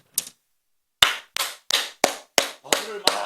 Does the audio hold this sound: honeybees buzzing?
no